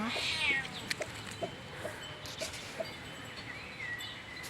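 A cat meows a few times in short, soft calls amid outdoor background noise near a chicken coop, with faint bird or chicken sounds nearby.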